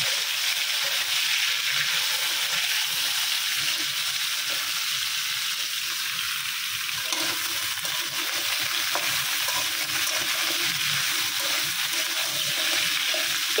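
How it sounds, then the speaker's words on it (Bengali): Pointed gourd slices frying in a small amount of oil, a steady close sizzle that runs unbroken throughout, with faint stirring and clinks in the pan and no talk. "একটু লাল লাল করে পটলগুলো ভাজা নেব।"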